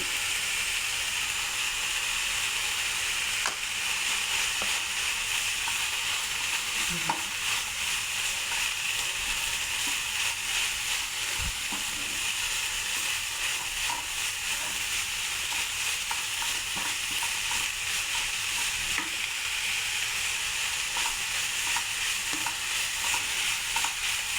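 Red amaranth leaves stir-frying in a hot pan give a steady, close sizzle and hiss throughout, with occasional soft scrapes and knocks of a spoon stirring, no talking.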